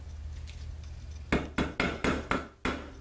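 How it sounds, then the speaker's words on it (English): A hammer strikes a punch against a curved metal pipe six times in quick succession, sharp close impacts over a low background hum. "Use a punch, nail, or screw to make a starter hole."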